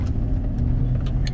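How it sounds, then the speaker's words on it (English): Cars pass by on a county road, a close, steady engine and tire rumble with a slight rise in the middle, heard without speech. "Wait for these cars to get by."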